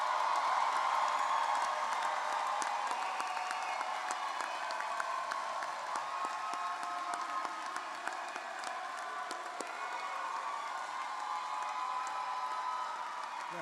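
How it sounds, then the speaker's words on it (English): Sustained applause from a large crowd honoring the University of Baltimore undergraduate graduating class at commencement, steady and dense throughout with scattered cheers and whoops. "please join me in a round of applause for the entire graduating class."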